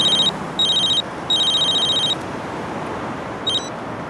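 A telephone rings in a Hindi film scene with a loud electronic bell in repeated bursts, three long rings and then a short fourth, alone with no speech.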